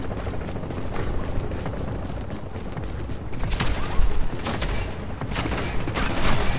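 Dense rapid gunfire in a shooter video game, a continuous rattling barrage with louder bursts toward the end, steady and loud without a clear break.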